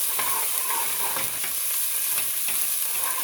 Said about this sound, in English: We're going to add the onions in there, like that.